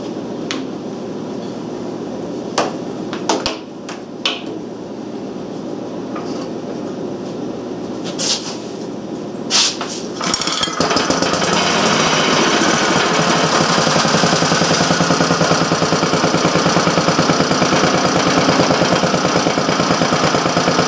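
A vintage Briggs & Stratton Model A engine mounted on a tripod catches after a few faint clicks and scrapes, then runs steadily and loudly with a dense, continuous rattling chug that fills the rest of the recording.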